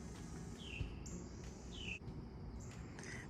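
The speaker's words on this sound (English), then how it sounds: "And the birds appreciate it, as you can hear." Faint birds chirp and whistle in short rising calls against a soft outdoor background hum, a few scattered tweets.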